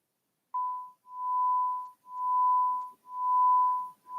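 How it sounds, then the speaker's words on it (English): A pure 1 kHz sine tone amplitude-modulated at 1 Hz, swelling and fading once per second for four clear pulses, clean and alone in silence. "a very simple example of a 1 kilohertz tone that is"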